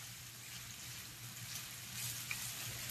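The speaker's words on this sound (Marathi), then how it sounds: "हाय फ्लेम वरतीच हे शिजवायचे आपल्याला, कारण की कांदा पूर्ण आपल्याला ब्राऊन कलरचा करून घ्यायचा आहे" Onions fry on high flame in a pan for prawn rice, giving a soft continuous sizzle with light stirring scrapes, quiet and steady, no talking.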